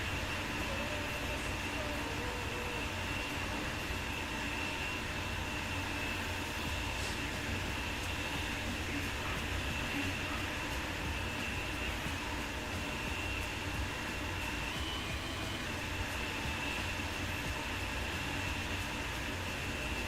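Electric train running in Train Sim World 4, a steady loud broadband rumble of motor and rail noise with a high whine, continuous and unchanging throughout with no breaks.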